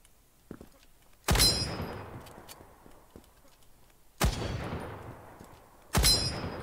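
Three loud, close shotgun blasts in the Krunker video game, each a sharp crack followed by a long fading tail, spaced about three seconds apart with faint clicks between.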